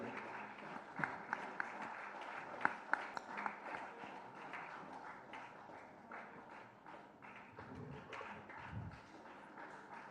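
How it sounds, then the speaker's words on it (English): Applause from the audience at a BJP event releasing a special postage stamp, sparse and uneven with a few sharp, louder claps and thumps, fading out with low murmuring. "A big applause please."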